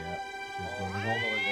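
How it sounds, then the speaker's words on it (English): A cat meows in a video game, the cry rising over speech and game audio with people talking throughout. "Oh, that's a cat."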